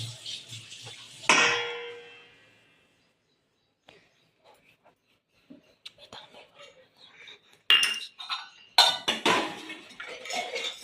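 A sugar mixture being stirred in a pot, with metallic scrapes and clinks of spoon on metal in bursts, a quiet gap in between, then a rapid run of clattering strokes close by.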